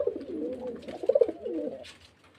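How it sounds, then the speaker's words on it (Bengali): Close, soft cooing of Murshidabad Giribaz pigeons, a low throaty rolling call lasting about two seconds before fading out, with no talking. "সব মুর্শিদাবাদের গিরবাজ পায়রা যেগুলো বলা হয় সড়ক বাজের পায়রা"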